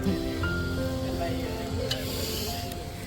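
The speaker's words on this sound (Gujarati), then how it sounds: "તમારા ભાઈ બનાવે છે વઘાર કરે છે દાળનો" Steady oily sizzle of spices tempering dal in a hot pan, close and continuous, with a faint clink near the end.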